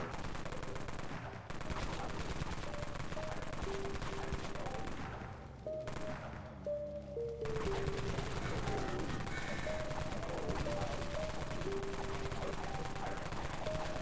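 Rapid, continuous heavy gunfire from the Wraith Cannon in the Dead Frontier shooter game, sustained and dense throughout with a brief dip partway, accompanied by game music tones.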